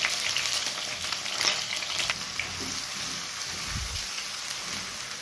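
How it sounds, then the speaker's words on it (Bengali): Onion, garlic and ginger pastes fry in hot oil in a pan for a fish and bottle gourd curry, giving a steady, fairly loud hiss and crackle that holds evenly throughout with no voices. "এবার আমি বাটা মশলাগুলো দিয়ে দিব। পেঁয়াজ বাটা, রসুন বাটা,"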